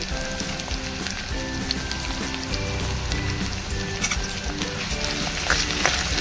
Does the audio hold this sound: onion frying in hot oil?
yes